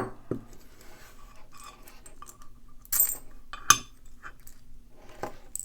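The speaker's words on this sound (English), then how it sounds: "I think a pin that falls down." A small metal pin drops out of a disassembled Mul-T-Lock NE14H Interactive+ padlock, giving light metallic clinks and taps, with one sharper ping near the end against quiet handling noise.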